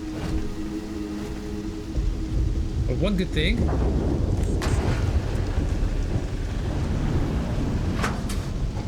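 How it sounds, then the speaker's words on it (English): Heavy rain and rolling thunder in a video game make a loud, continuous downpour with a deep rumble building in the middle. Someone talks briefly over the storm. "Would have to be raining."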